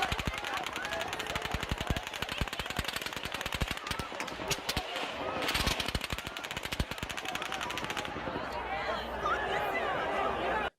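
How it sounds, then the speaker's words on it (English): Gunfire from the Las Vegas shooting, heard as long rapid bursts of automatic shots ringing out over a murmuring crowd and background chatter, steady and fairly loud throughout. "There is low, further traveling sounds of shots fired."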